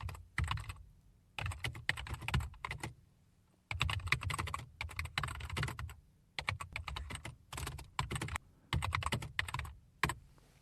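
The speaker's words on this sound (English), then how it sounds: "And then I could just start typing regular text." Fingers type on a computer keyboard in quick, uneven bursts of close, crisp keystrokes separated by short pauses, with no voices over the clatter.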